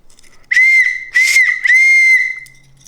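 A small camping keychain whistle gives three loud, shrill blasts close up, the first and last held longer, with brief gaps between them and no talking.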